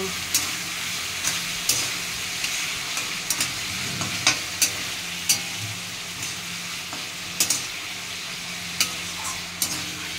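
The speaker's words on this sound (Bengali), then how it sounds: "তারপরে একটুখানি অল্প করে নাড়িয়ে দেব।" A spoon scrapes and stirs through a spiced mixture of turmeric and chilli powder frying in a pan, with steady sizzling underneath and sharp clinks of the utensil against the metal at irregular intervals.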